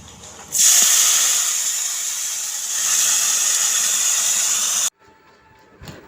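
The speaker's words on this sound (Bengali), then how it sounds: "ওর মধ্যেই এবার আমি মাটনগুলো দিয়ে দেব" Mutton pieces drop into hot leftover potato-frying oil seasoned with chilli, bay leaf and cumin, setting off a loud, sustained sizzling hiss that swells, holds for several seconds, then cuts off abruptly.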